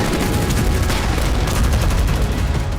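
Dense, continuous barrage of loud blasts and rapid reports during the Israeli bombing of southern Gaza, close and overpowering for a few seconds before fading slightly at the end.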